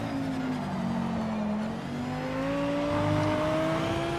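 An Audi race car engine in a video game drones steadily at high revs, its tone slowly climbing as it accelerates, loud and continuous with no voices.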